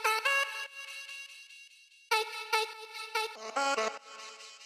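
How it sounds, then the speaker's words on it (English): Sliced vocal chops from a sample in Simpler, part of a future bass drop, play as short, bright, pitched vocal stabs in choppy bursts with a gap in the middle, then a quick run of stuttered hits. "the next kind of major thing that we added in the drop are these vocal chops"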